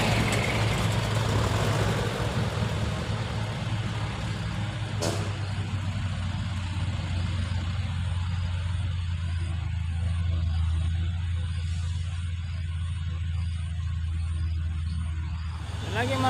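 A box truck's engine labours up a steep incline, a heavy low drone holding steady and loud throughout, with a brief hiss partway through and people talking over it.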